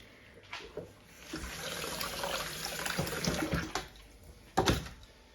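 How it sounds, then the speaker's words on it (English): Cold water runs from a kitchen tap over a hand, a steady close splashing hiss broken by a few louder spattering bursts. "Why don't you run your hand under cold water?"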